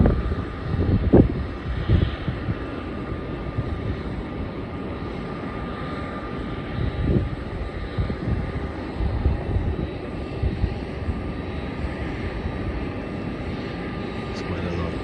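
Airplanes at Melbourne Airport produce a steady, broad engine roar that carries through the whole stretch, with a few louder swells early on and light wind buffeting the microphone.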